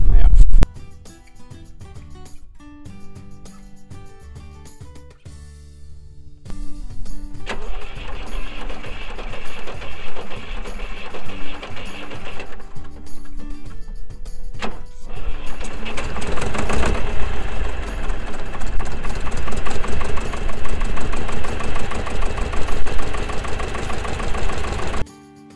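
A Menzi Muck walking excavator, being moved into a forest, cranks and fires up, then settles into a steady, loud, close diesel idle with a knocking mechanical rhythm that continues to the end.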